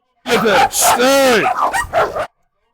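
Rottweiler dogs bark in a close, loud, continuous burst of deep barks and yelps lasting about two seconds, with no talk over them.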